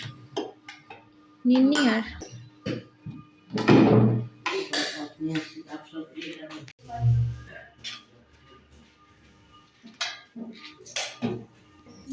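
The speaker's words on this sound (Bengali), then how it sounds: "আরে প্লেট ফেলাই দিতেছিল" Dishes and plates clatter in a home kitchen, with a loud clank as a plate nearly falls, followed by scattered clinks and softer rattles; people talk over the clatter.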